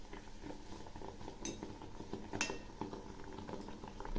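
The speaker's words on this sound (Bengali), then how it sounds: "এক পাশ ভাজা হয়েছে। এখন আমি উল্টে দিচ্ছি।" Malpua sizzling in hot oil in a pan as it is flipped, with a steady bubbling fry and a couple of sharp utensil clinks against the pan, close and fairly quiet.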